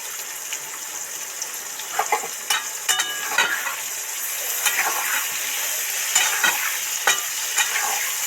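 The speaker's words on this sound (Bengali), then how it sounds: "পটল বেগুন ভাজার সময় তেলের মধ্যে একটু নুন ছড়া দেবে" Pointed gourd and eggplant pieces fry in oil in a pan, a bright continuous sizzle close up, broken by scraping stirs and soft clinks of a spatula.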